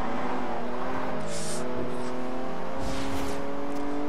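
Racing cars in Forza Horizon 2 on Xbox 360 drone steadily with sustained engine tones, shifting pitch as they accelerate, with brief hissy bursts of other cars alongside; no talk.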